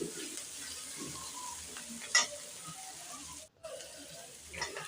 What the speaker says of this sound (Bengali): চচ্চড়ির আলু ভাজা প্রায় হয়েই গিয়েছে